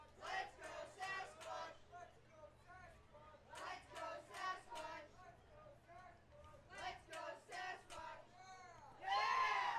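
A crowd at a minor-league baseball game between the Spearfish Sasquatch and the Casper Spuds rises and falls in repeated waves of cheering and shouting, with scattered voices and a louder burst at the end.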